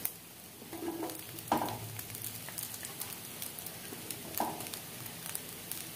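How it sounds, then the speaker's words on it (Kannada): Bread slices roast in a pan for a milk dessert, with a steady soft sizzle and occasional scraping and turning clinks near the pan, no talking. "ಇದನ್ನು ನಾನಾಗಿ ಇನ್ನೂ ಸ್ವಲ್ಪವನ್ನು ಕೂಡ ರೋಸ್ಟ್ ಮಾಡ್ಕೋತಾ ಇದ್ದೀನಿ"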